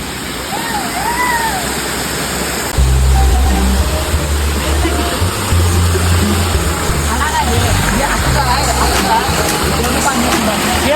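A small village waterfall at a ghat pours continuously, a broad steady rush of falling water with a deeper low rumble that swells after the first few seconds, with faint voices in the background.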